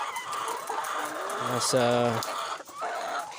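Dekalb White Layer hens at 22 weeks give a short run of clucks and a brief drawn-out call midway, heard under steady talk in a poultry house.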